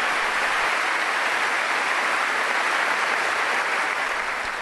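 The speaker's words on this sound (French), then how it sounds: "Un grand applaudissement pour les frères d'Arcabuco." A church congregation at a Bible study gathering bursts into loud, continuous applause, a thick wash of clapping from a large crowd that holds steady for the whole stretch.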